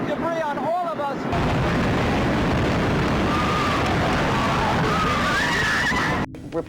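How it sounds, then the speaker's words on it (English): A huge explosion at the World Trade Center in Lower Manhattan, a dense, sustained roar of rumbling blast and falling debris that swamps everything, with brief voices and honking-like cries at the start. "A huge explosion now raining debris on all of us."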